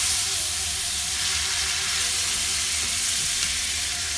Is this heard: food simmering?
yes